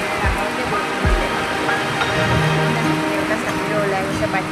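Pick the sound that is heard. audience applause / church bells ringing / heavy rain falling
heavy rain falling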